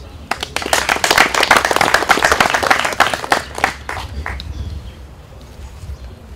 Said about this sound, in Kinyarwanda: nagira ngo mwongere mubahe amashyi